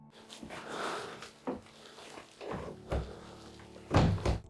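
Rattling and thudding of a locked door being tried in an abandoned, fully furnished house, several irregular knocks and clunks close by with a louder pair of bangs near the end, no talking.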